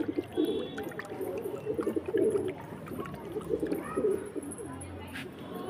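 Soft, low pigeon coos repeat in a steady murmur throughout, close by, with faint background noise and no talking.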